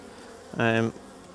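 Honey bees buzz around beehive boxes, with one bee passing close in a single loud, short drone against a quiet background.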